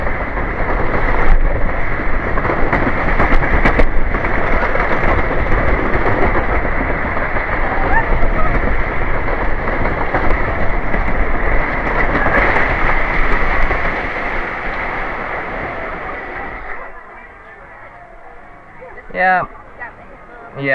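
A wooden roller coaster's PTC train rattles and roars loudly along the track at Hersheypark for most of the ride, then slows and quiets near the end, with riders' voices heard over the noise.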